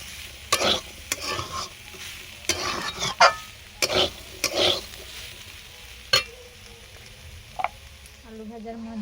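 Turmeric-coated new potatoes frying in an open pan, with faint sizzling under repeated sharp scrapes and clinks of a spoon stirring against the pan.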